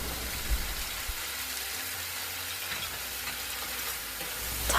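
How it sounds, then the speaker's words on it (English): Dungeness crab is tossed in sauce in a wok over high heat, producing a dense, crackling sizzle with occasional stirring scrapes, fairly close and continuous. "Toss quickly for 30 seconds to get the flavor in the crabs."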